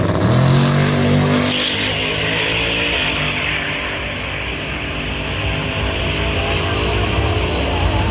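A fast street car accelerates hard from a standstill, its loud engine note climbing steadily through the gears with strong, sustained roar close by.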